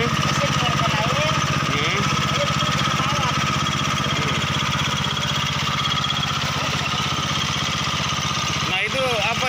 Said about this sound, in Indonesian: Mesin mengeluarkan air.